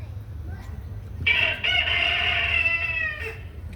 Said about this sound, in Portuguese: E nesse instante, um galo cantou.